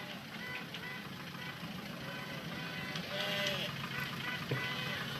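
Sheep bleat in a flooding crowd, a few overlapping calls rising over steady outdoor noise with a vehicle engine rumbling underneath.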